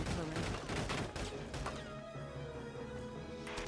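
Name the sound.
machine gun fire in Valkyria Chronicles 4 video game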